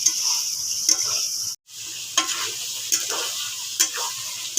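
Yam and potato chunks sautéed in a pan for a fish curry, with steady oil sizzling and repeated spatula stirring scrapes in a close, even rhythm; one brief drop-out partway through.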